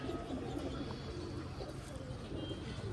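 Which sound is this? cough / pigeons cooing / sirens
pigeons cooing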